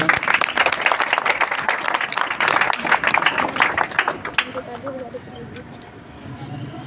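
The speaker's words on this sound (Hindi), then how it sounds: "सबके लिए तालियां बजाते बेटा जरा।" Applause for school staff at a fourth anniversary event; a dense burst of clapping, loud at first, then tapering off over several seconds as a voice speaks in the background.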